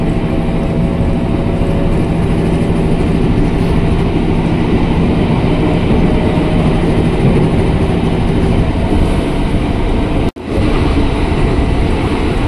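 A KRL commuter electric train near Depok Baru station, Indonesia, rolls steadily along with a constant rumble and rattle, loud and close, with a brief dropout near the end.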